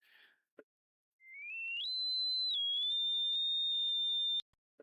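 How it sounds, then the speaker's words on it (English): A pure sine wave tone generated in the Prism synth glides upward in pitch, then holds steady and loud for a few seconds before cutting off, with brief faint clicks around it. "You can hold control and then make a sine wave."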